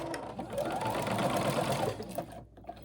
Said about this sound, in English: I'm gonna use a zigzag stitch on my sewing machine